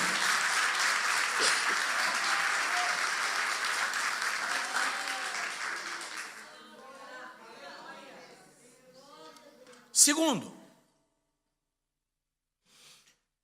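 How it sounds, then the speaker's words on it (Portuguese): A church congregation applauds the Lord during an evening sermon, a steady broad wash of clapping for about six seconds that fades into murmuring voices, then a sharp sound before silence. "Alguém pode aplaudir ao Senhor aqui nessa noite?"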